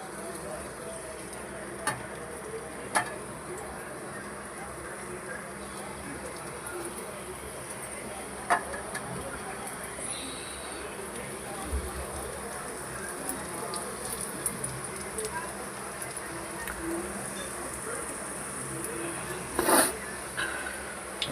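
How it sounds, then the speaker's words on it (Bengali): Egg cheese patties frying in hot oil give a faint, steady crackling patter with a few sharper pops rising above it. "আমার তেলটা এবার গরম হয়ে গেছে, এবার এক এক করে একটু ভেজে নেবো।"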